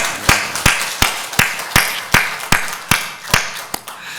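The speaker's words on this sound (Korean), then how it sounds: "이 시간 우리 주님께 영광의 박수 한번 돌려드리도록 하겠습니다." A church congregation claps together in a slow, steady unison rhythm, about eleven loud, evenly spaced claps over four seconds with no talk.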